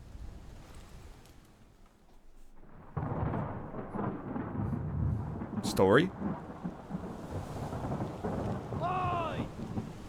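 Thunderstorm in Return of the Obra Dinn, a low rumble of thunder swelling over steady rain at moderate distance, with a sharp chirp-like effect midway and a brief spoken word near the start.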